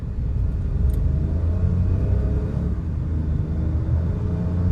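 Compact SUV (Mahindra XUV 3XO class) turbo petrol engine pulling under acceleration, a steady loud low rumble of engine and road noise heard from inside the cabin, with no talk.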